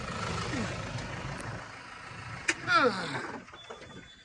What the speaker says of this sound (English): I don't want to be playing with them while the tractor's still running